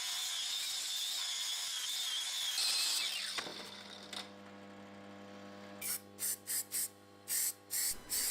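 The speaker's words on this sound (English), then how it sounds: "This is filler primer. It fills any small sanding marks in your piece of work." A can of filler primer sprays in a continuous hiss onto a restored chain axe head for about three seconds, followed by a rattling metallic ring and several short, sharp sputtering bursts.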